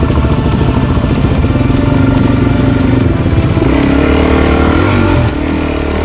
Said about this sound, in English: First lot of sand on the DRZ.